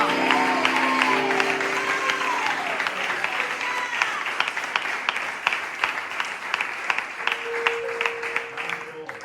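Applause from a church congregation, steady clapping from a sizable group close by, with faint voices and a sustained tone heard beneath early on, then tapering to scattered sharp claps.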